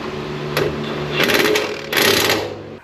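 An impact wrench working on front suspension parts of a Lexus GX 470 in a garage, two short close bursts of buzzing, hammering whir over a steady electrical hum.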